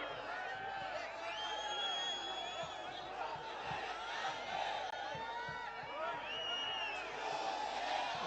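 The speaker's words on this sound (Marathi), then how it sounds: "आपण अगदी जोरदारपणे टाळ्या देऊयात" A large crowd at an outdoor Shiv Sena election rally for a Hatkanangale candidate cheers and shouts loudly and continuously, with voices and whistles blending into a dense, sustained roar.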